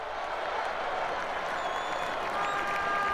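Steady applause from a large crowd in the MotoGP 19 video game, continuous and fairly loud throughout, with a few faint whistles rising above it.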